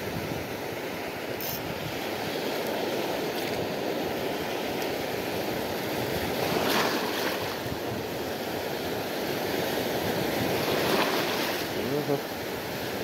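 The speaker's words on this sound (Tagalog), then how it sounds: "Medyo malakas na ang alon." Strong ocean surf rolling in at high tide on a shore where someone is casting a fishing line, a steady loud roar of breaking waves with wind noise across the microphone.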